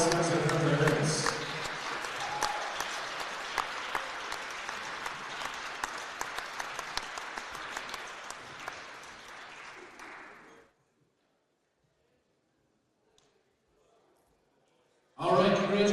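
A crowd at a high school wrestling meet applauds senior wrestlers and their parents, loud dense clapping with a few cheers for about ten seconds, then near silence before another voice begins.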